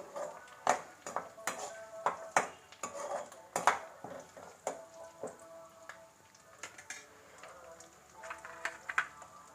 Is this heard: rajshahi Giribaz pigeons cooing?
no